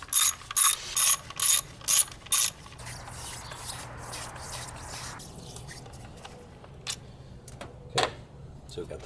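A ratchet clicks quickly in several short bursts while valve cover bolts come out of a 2005 Ford Focus engine, followed by softer mechanical handling noises and faint shop sounds.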